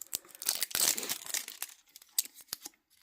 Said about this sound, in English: Although the perforations don't work too well, so I guess it's just tearing weird.